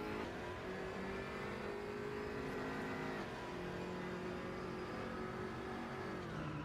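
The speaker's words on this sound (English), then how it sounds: "Let's get some nice engine sounds." Race car engine heard from an onboard front camera in Gran Turismo at the Portimão circuit, a steady loud mid-pitched drone with rising and falling revs through gear changes, continuous for several seconds with no talk over it.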